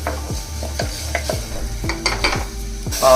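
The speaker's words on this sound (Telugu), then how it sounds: "ఈ ఆనియన్స్ పచ్చివాసన పోయే వరకు ఫ్రై చేసుకోవాలి." Onions fry in a pan, a soft continuous sizzle broken by regular scraping stirs about every half second, close and moderately loud, with no voices.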